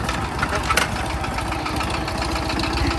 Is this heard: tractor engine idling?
yes